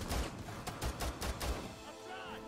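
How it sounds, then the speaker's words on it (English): A grenade going off in Rainbow Six Siege, heard as a series of sharp, loud bursts of crackling impacts in quick succession, followed by a fading ringing tone after the blasts. "That might be a grenade."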